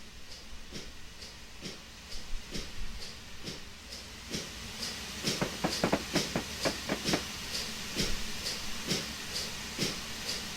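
A 5-inch gauge steam locomotive on a garden railway route in the video game Train Simulator 2015 chuffs in a steady, even rhythm with a soft hiss, growing louder and busier midway through before easing back.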